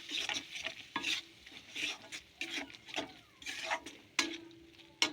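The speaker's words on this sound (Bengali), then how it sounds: "ভালো করে মশলাটা কষানো হয়ে গেছে" Spice paste for a prawn malai curry is stir-fried in a pan, with a soft sizzle beneath repeated scraping strokes of a spatula. The strokes come in an irregular rhythm, fairly quiet and close.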